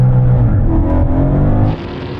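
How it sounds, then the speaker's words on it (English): A Dodge Hellcat muscle car drag racing down a quarter-mile strip roars loudly with a strained, rising engine note, then the sound drops abruptly as it pulls away. "Oh, here comes the Dodge."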